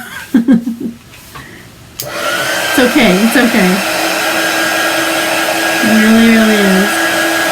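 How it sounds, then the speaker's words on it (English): A hair dryer starts with a sudden loud whoosh and keeps blowing in a steady close roar over a wet ink transfer, while someone talks and murmurs beneath it. "I'm going to hit this with the dryer for just a moment"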